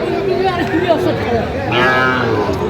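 Sahiwal cattle lowing at a busy livestock market in Sylhet, with a drawn-out moo rising over steady crowd chatter and nearby voices.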